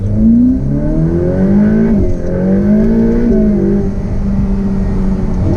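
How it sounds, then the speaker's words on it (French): A Ferrari F8 Spider engine close by rises and falls in pitch through several loud revs, a smooth turbocharged roar without pause. "Ils ont vraiment travaillé le son, mais ils te laissent le petit plaisir du turbo."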